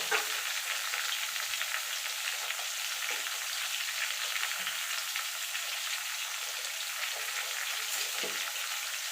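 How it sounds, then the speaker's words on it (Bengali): Potato pieces frying in oil with a little salt, a dense, even crackling sizzle that stays loud and close throughout, with no speech. "দিয়ে আমি আলুগুলো লাল লাল করে ভেজে নেব।"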